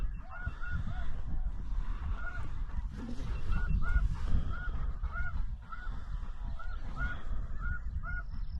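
A flock of geese honks repeatedly during a waterfowl hunt, a stream of overlapping nasal calls spread across the scene over a rumbling, wind-blown background.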